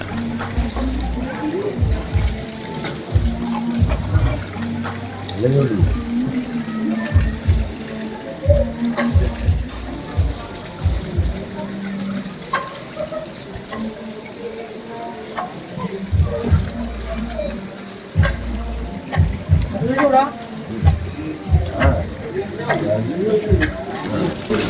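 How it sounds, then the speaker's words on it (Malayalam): Water from a Himalayan hot spring flows continuously, a steady running wash heard under someone talking at length throughout. "ഈ ഒരു സ്ഥലത്ത് കൂടി സ്ഥിരമായിട്ട് വെള്ളം ഇങ്ങനെ ഒഴുകിക്കൊണ്ടേയിരിക്കും ചൂടുവെള്ളം"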